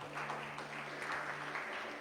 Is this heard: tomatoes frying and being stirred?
no